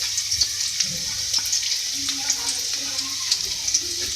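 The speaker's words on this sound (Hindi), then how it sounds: "सबसे पहले मैंने ऑयल लिया है और इसके अंदर मैं ऐड करूँगी चॉप लहसुन 1 खाने का चमचा" Chopped garlic fries in hot oil for hot and sour chicken noodles, giving a steady, fairly quiet hiss and crackle with small pops and occasional stirring clicks, and someone speaks softly in the background.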